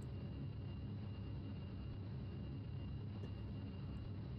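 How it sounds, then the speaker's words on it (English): Loud, steady whooshing roar from a computer fan running a Voodoo 2 setup on a K6-2 machine, sounding like a jet engine, constant and near throughout with no talk. "Listen to this, like, jet engine sound here."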